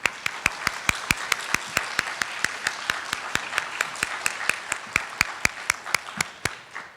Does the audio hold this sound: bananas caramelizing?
no